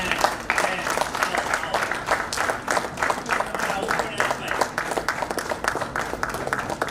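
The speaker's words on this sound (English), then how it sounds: "Please clap" An audience at an HRD network chapter meeting in Surat claps steadily throughout, a dense, even applause with individual claps audible within the crowd.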